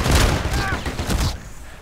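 An XM-25 grenade launcher fires in a video game: a loud, close burst of blasts with a booming low end that rings out for about a second before cutting off, with no talking over it.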